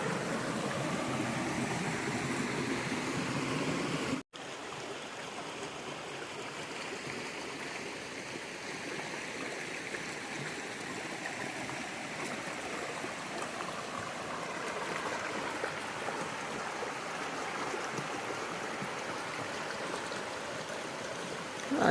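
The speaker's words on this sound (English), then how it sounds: "stopped for lunch along the side of this little stream and waterfall going down this little gorge" A small stream and waterfall running down a little gorge along the Appalachian Trail, a steady rushing and splashing of water that fills the whole stretch at moderate level, with no talking.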